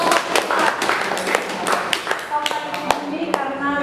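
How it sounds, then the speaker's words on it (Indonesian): Scattered handclaps from a small group at a classroom presentation, loud and close, mixed with voices talking over them. "beri tepuk tangan untuk"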